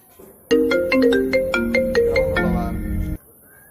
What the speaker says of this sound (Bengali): ফোন লাগা দিলাম লাগছে ফোন লাগছে